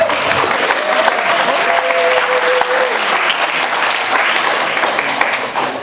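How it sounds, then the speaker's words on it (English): Audience applause at an evening awards show, a dense, steady wash of clapping that holds loud and even from start to finish, with a few faint voices inside the crowd noise. "They do deserve a big round of applause,"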